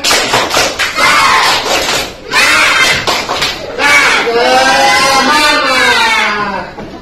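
Children in a classroom give a loud, rhythmic spirit clap and shouted chant together, rising into a sustained group cry at the end, filling the room throughout.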